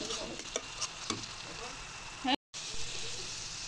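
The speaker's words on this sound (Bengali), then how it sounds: "তো এই বাদামগুলো দিয়ে দিলাম এখন ভালো করে মিশিয়ে তারপর আসতেছি" Peanuts stirred into shrimp frying in a pan, a continuous oily sizzle with a few scraping stir strokes and a brief dropout near the end.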